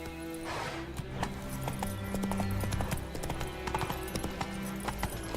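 Roach, Geralt's horse in The Witcher 3, gallops in a steady clip-clop of hooves over layered game music and ambience, close and continuous, with a brief whinny possible.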